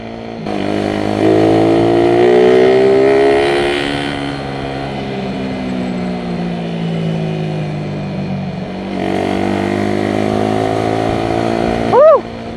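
A motorcycle rides at night on the way to Tagaytay, its engine droning steadily up close with a gradual rise in pitch, then easing off and climbing again. Wind rushes over the mic, and a brief chirp comes near the end.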